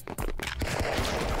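Gunfire in a Stick Fight multiplayer game, a few sharp shots rattling out close together at the start, then a dense burst of noisy crackle that fills the rest of the moment, fairly loud with no talking.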